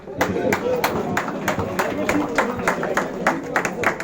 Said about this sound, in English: So let's have a big round of applause, audience, for everyone